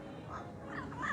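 Harsh, raspy parrot squawks rise out of a soft background in Puerto Plata, Dominican Republic, a few short calls in quick succession, fairly faint and distant.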